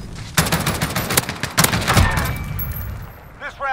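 A .50 caliber gun fires in Modern Warfare 2019: several heavy, spaced shots in close succession, loud and near, with echoing tails and clinking sounds at the end.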